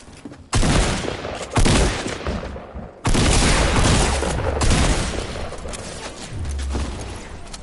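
Loud bursts of video game gunfire in a duos match, heavy rattling volleys starting and stopping abruptly, close and dominant with no talk over them.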